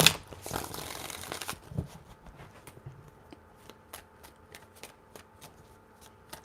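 Tarot cards being shuffled by hand, a dense riffling burst at the start followed by a run of crisp, evenly spaced card snaps, close and fairly quiet with no talking.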